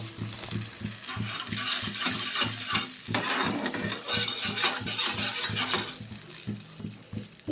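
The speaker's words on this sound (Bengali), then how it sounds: "এবার আমি এর মধ্যে ঝোল দিয়ে দেবো।" Broth poured into a pan of spice paste frying in oil for a Bengali fish curry, giving a bubbling sizzle with stirring and scraping against the pan, close and continuous.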